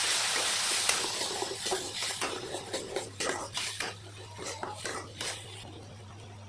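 A spatula stirs and scrapes a spice paste with turmeric, cumin and coriander powder in a pan for goat-liver mete chorchori. The close scraping strokes repeat unevenly over a low steady hum, with no voices.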